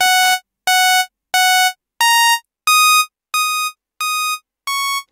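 A basic saw wave from the Vital synthesizer plays a high note, repeated in eight short, even bursts separated by brief silences, with the pitch stepping up after the first three. Loud, bright and buzzy, with no voices.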